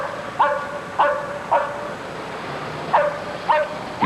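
A police dog on a search in New Orleans barks sharply about six times in an uneven rhythm, each bark clear and fairly close, with quiet pauses between.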